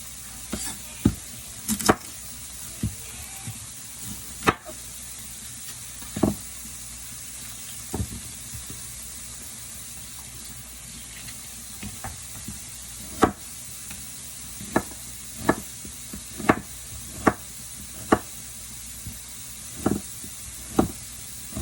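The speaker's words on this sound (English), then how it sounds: "So I'm going to do a quick chop of this onion." An onion being chopped with a knife on a cutting board, irregular sharp taps spread across the stretch, growing quicker and more regular toward the end, close by over a faint background hiss from a cooking pot.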